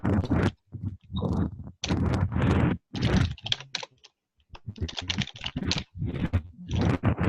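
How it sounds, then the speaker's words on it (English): Fingers typing on a computer keyboard during an online meeting, in rapid bursts of clicking keystrokes separated by short pauses, close and fairly loud with no talk. "I'll just type it out."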